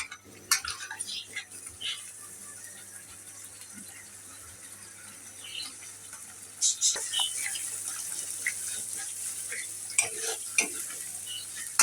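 Spice paste for a chicken roast frying in a pan, a soft sizzle under scattered scraping and stirring clicks of a utensil against the metal.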